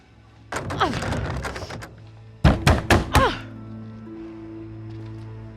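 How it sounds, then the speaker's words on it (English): Banging on a door in the video game Little Hope: a run of loud, sharp thuds in quick succession, with game character speech before it and a low ambient tone after. "I can hear you banging on the door."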